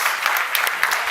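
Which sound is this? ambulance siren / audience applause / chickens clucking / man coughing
audience applause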